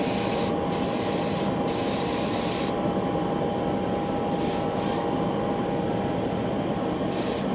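A spray gun spraying clear coat inside a spray booth gives a steady, loud hiss throughout, with the booth's constant hum underneath and small shifts in the spray's texture as it starts and stops.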